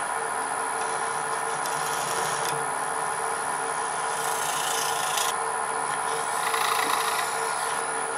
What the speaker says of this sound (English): And now for possibly my favorite thing in wood turning, hollowing out a green bowl.